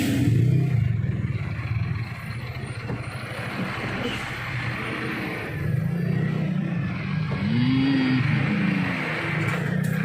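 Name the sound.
heavy road traffic, cars and truck engines revving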